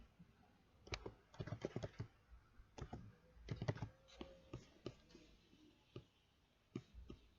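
Computer keyboard being typed on to write a map legend, quiet clustered key clicks in quick bursts with short pauses between, close by and without voices.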